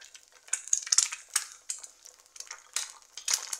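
Sharp crackling sizzle in bursts, like food hitting a hot pan, with no voices.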